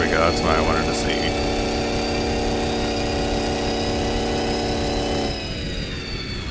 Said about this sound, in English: The whining you're hearing is just the gears rubbing. Just the sound they make when they drive.